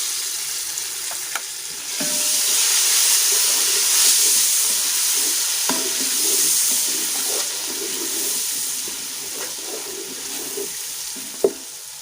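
Chopped tomatoes and green chillies sizzling in a pan for spicy vegetable spaghetti, a loud steady frying hiss with occasional sharp clicks and stirring scrapes, no talking.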